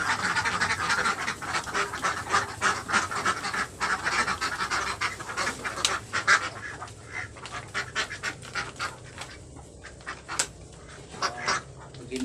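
Egg-laying ducks on a farm, a flock of about 45, quack and chatter steadily throughout, a dense, close, continuous racket with no speech.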